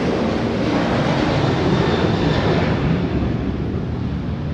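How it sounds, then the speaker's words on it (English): Southwest jet airliners taking off near Toronto, a broad continuous roar with a rushing, wind-like texture, steady and fairly loud at a distance, with no talking. "there's some planes taking off now"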